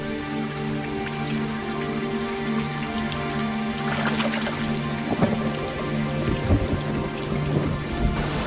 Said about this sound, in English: Spring storms are common and can last for days